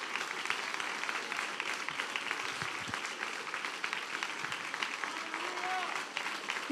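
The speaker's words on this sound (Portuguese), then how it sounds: "Aplauda o nome do Senhor Jesus, dê glória." A congregation claps through a worship service at an IEQ church in Piracicaba, a sustained patter of many hands blended with singing or spoken praise over it.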